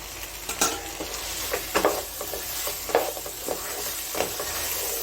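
Ghee-fried okra is stirred into a sizzling rosemary prawn fry in a pan, producing a steady hiss broken by irregular scraping and clinking strokes of the spatula.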